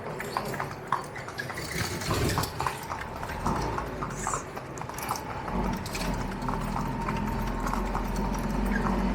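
Horse hooves clip-clop in a steady trotting rhythm on a downtown Nassau, Bahamas road, mixed with faint rattling of a carriage and distant traffic rumble.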